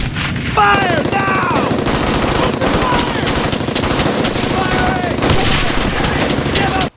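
Sustained machine gun fire in the World War II shooter Brothers in Arms: Hell's Highway, loud rapid bursts rattling almost nonstop with scattered gunshots layered over the top.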